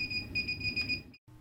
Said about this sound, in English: Suppress the alarm by activating the speaker button.